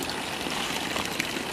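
Water spills from a spout near rice fields on a trek toward a waterfall, giving a steady, close splashing rush with no break.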